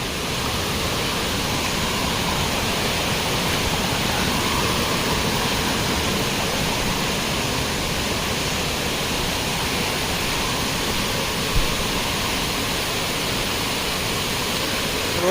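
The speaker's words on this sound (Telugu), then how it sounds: "కనపడుతుంది కదా వాటర్ ఫాల్స్" Steady, dense rushing of the Maredumilli waterfall, a broad unbroken roar heard close and alone with no break in the flow.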